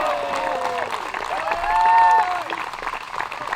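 Spectators in a bleacher applaud and cheer at a women's disc golf tournament, a crowd of steady clapping that swells near the middle with a few whistles, heard from a short distance with a voice speaking over it.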